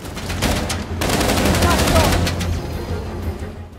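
Rapid gunfire from the video game Uncharted: The Lost Legacy bursts loudly and continuously in dense automatic volleys, with heavy low rumble underneath and the firing fading near the end.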